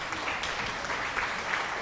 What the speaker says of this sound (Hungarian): Nagyon rendes tőletek, köszönöm a tapsot.